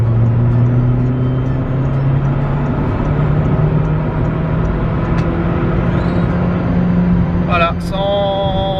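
Car accelerating hard up a French motorway slip road to merge alongside a truck, a steady loud in-cabin engine drone with rising tone throughout and a brief whistling tone near the end.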